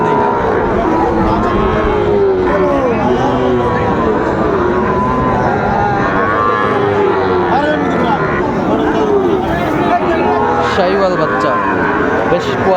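Sahiwal cattle lowing at a crowded livestock market in Bogura, Bangladesh, with drawn-out moos rising and falling beneath constant loud chatter from many people.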